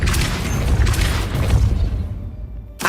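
A Depulso spell cast in the video game Hogwarts Legacy bursts out as a loud, booming rush of force with a swishing surge, fading away, then a sharp impact hit right at the end.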